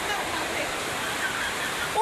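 Wind-driven rain sprays in through an opening during a violent storm, a steady, dense hiss of water that holds at an even, close level throughout.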